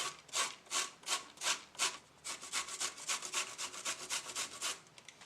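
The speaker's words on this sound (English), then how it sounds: "I'm going to grate the pumpkin on the second smallest side." Pumpkin is rubbed against the second-smallest side of a box grater in quick, rhythmic rasping strokes, about twenty close scrapes over five seconds, steady and unaccompanied by talk.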